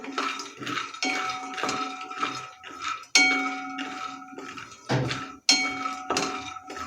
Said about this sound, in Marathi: शेंगदाणे भाजण्यासाठी फार वेळ लागत नाही हाय फ्लेमवरतीच भाजून घ्यायचे आहेत शेंगदाणे